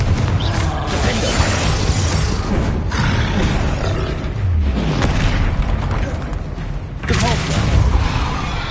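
Spell blasts and explosive booms from Hogwarts Legacy combat against a troll, loud dense rumbling impacts and crackling bursts in sustained succession, with a voice faintly over the game sound.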